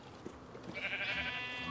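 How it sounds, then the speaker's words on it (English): A sheep in the video game Minecraft gives a single short, nasal bleat, faint and close, rising out of a quiet background. "Sheep."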